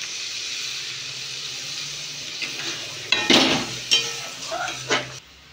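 Stuffed pointed gourd (potol dorma) simmering in a little water in a pan gives a steady soft hiss, with a few clinks and scrapes of a utensil toward the middle and end.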